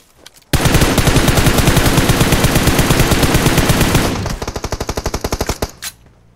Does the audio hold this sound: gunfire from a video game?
yes